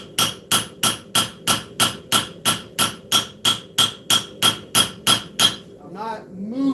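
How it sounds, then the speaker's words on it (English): A hammer planishing hot steel during forging at a low heat, about fifteen evenly spaced ringing blows in a steady fast rhythm, close and clear, followed by a brief lighter metallic ringing at the end. "Whenever we're forging at this lower heat, all we're doing is planishing."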